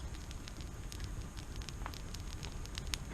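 A backyard campfire burns steadily while a kiełbasa sausage grills over it, a continuous low rushing roar scattered with small sharp crackles and pops, close and alone without talk.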